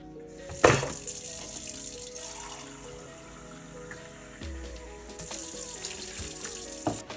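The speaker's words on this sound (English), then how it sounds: "You're going to keep adding the water." Water running steadily from a tap into a bowl of flour mixture while making dumpling dough for Jamaican ackee and saltfish, a continuous splashing hiss with a few clinks and knocks, close and fairly quiet.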